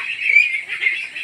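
Egg-laying ducks honk and quack close by in a duck pen, giving a short, loud burst of nasal calls.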